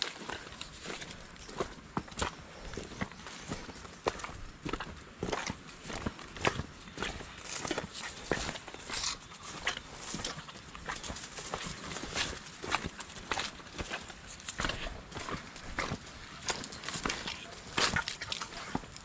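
Horse hooves clip-clop steadily on a hard surface, a continuous quick rhythm of close, sharp knocks throughout.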